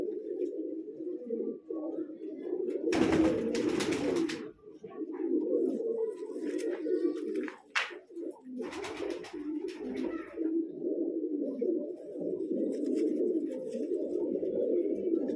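Pigeons of a long-flying breed in Bijnor, Uttar Pradesh, coo steadily in low, rolling, overlapping calls throughout, close and clear, interrupted by a few brief rustles and bumps.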